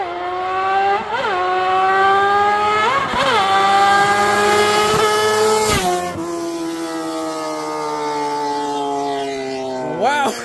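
A vehicle engine revs hard at full throttle, its pitch sweeping up and dropping back through repeated gear shifts, loud and close throughout the run with a brief lull after each shift.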